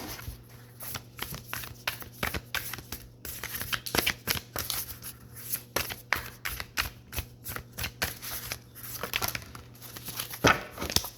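Moonology Messages oracle cards being shuffled by hand, a steady run of soft papery riffles and flutters lasting throughout, close and moderately quiet, with no voices.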